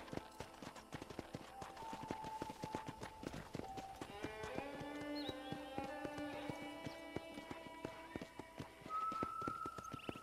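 Horse hooves clip-clop in a steady, repeated rhythm as the rider tours a ranch in the video game Red Dead Redemption, loud and close, with a sustained whinny-like tone and game music layered over the hoofbeats.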